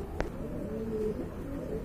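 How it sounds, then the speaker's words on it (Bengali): A red fantail pigeon gives a soft, low cooing close by, with one brief sharper sound near the start. No one speaks over it. "এটা কিন্তু ফ্যান্টেল কবুতর।"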